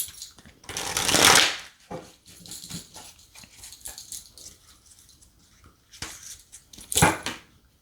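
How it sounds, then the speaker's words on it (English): Tarot cards from an Afro Goddess Tarot Arcana deck shuffled in two loud bursts of riffling and slapping, one early and one near the end, with softer shuffling between them and no talk. "Give them a shuffle."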